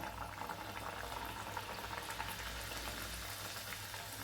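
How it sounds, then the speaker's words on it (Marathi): Puris made from potato and maida frying in hot oil, a steady dense bubbling sizzle that continues evenly throughout, close and moderately loud. "तेल पण आपलं तापलेलं आहे तर त्याच्यात आपल्याला काय करायचं आहे आता एक एक पुरी आपल्याला सोडून द्यायची"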